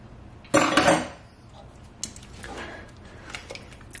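Spoons and dishes clatter in a kitchen while apple butter is tasted, one loud close metallic clatter followed by softer scattered clinks and light taps.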